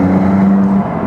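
A warmed-up Maserati MC20 supercar engine holding a loud, steady low drone with a strong tonal hum, dipping slightly near the end of the brief stretch.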